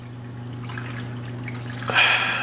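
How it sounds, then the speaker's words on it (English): A little water poured into a Dutch oven at home, a soft trickle building briefly near the end after quiet kitchen hum, close and moderately loud. "I'm gonna add a little bit of water in here too."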